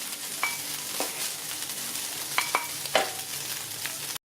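Kofta sizzling in a frying pan, a steady crackling hiss broken by a few sharp pops and clinks of a utensil against the pan, close and moderately loud with no talking.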